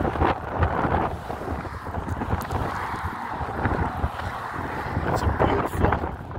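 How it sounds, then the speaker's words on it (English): Gusty wind buffets the microphone along Indian Canyon Drive with a constant rumbling roar, while a voice talks over it. "It's a little windy, but it's not too bad."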